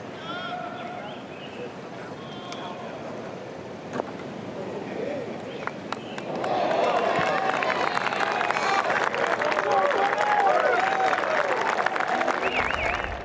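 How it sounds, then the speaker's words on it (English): Golf gallery at a PGA Championship final round breaks into cheering and applause, a quieter murmuring crowd first, then a sustained swell of clapping and shouts from a distance for several seconds. "Hear them cheering for Jordan."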